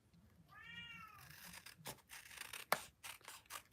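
A male house cat meows insistently indoors, one clear drawn-out meow near the start followed by scattered rustling and tearing noises close by, with no talking.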